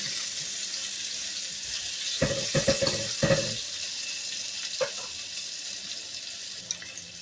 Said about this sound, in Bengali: পটলটা আর একটু ভাজতে হবে।